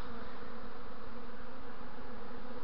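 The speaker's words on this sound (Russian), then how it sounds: "Пчелы не кусаются" A swarm of bees with young queens hums around a hollow in a linden tree, a continuous dense buzzing drone heard close and steady with no voices.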